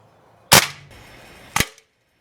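A 1960s Benjamin Franklin Hot Shot CO2 BB carbine, Model 3030, fires two sharp close cracks about a second apart, each with a brief hissing gas tail, loud against near silence.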